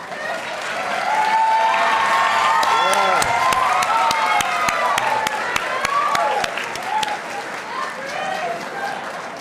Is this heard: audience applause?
yes